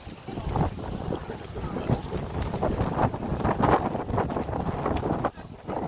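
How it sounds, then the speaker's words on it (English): Strong wind buffets the microphone at an outdoor climate change rally in Nottingham on a freezing day, a loud, continuous gusting rumble. "Very windy."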